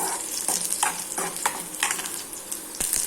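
Onions and dried red chillies sauté in a pan for a chayote kootu, sizzling under repeated close stirring scrapes and clinks, short and steady with no talking.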